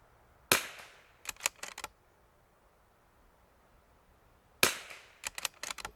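Two sharp, loud gunshots from a precision rifle fitted with a new Timney trigger, each followed by a short cluster of echoing cracks and clatter, separated by several seconds of quiet outdoors.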